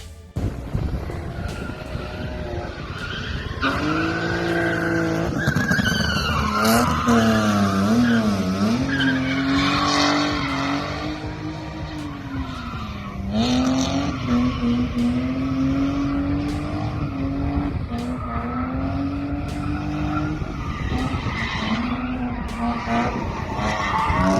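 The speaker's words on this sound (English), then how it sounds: "This is my second run after not drifting for a year in a new car" A car engine revs hard while tires squeal continuously through long drifting slides, loud and close, with brief drops as the throttle lifts.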